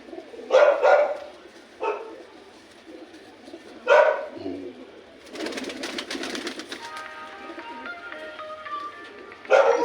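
A pigeon kept on a rooftop in Jammu's Old City gives several loud separate calls spaced a second or two apart, with a rougher stretch of noise in the middle and no talk.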